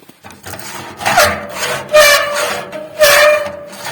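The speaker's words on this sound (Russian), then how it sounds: "звук открывания дверцы" A cast-iron Invent Group 3D medium stove-fireplace door swings open with creaking, squeaky scraping, heard in three drawn-out bursts, close and fairly loud with no talking.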